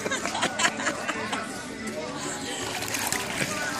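Water splashes and sloshes around someone swimming in the sea at Costa do Sauípe, Bahia, Brazil, with repeated bursts of spray close to the microphone while voices chatter nearby.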